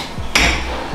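A single sharp metallic strike from a hammer undergoing repeated strike testing in a tool factory rings out, followed by a short ringing decay.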